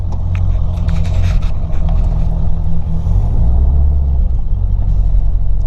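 Tuned Ford Powerstroke diesel truck engine running loud and close, a heavy low rumble that swells slightly as it revs, with no talking.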